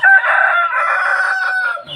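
A single close, loud rooster crow, a long drawn-out cock-a-doodle-doo lasting about two seconds, on a pelung chicken farm in Cianjur, West Java, Indonesia.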